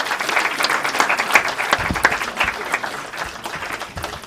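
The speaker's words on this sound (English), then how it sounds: "All right, a round of applause for these people." A church congregation claps for its leaders at a new senior pastor event, a full, steady round of applause that swells and then gradually thins out.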